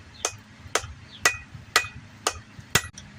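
A hammer strikes the corner of a hot steel bar while a rounded detailing chisel is being forged, six sharp, evenly spaced ringing blows about half a second apart, close and clear with no talk.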